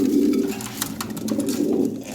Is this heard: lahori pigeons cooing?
yes